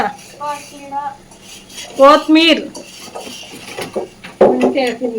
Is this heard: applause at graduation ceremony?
no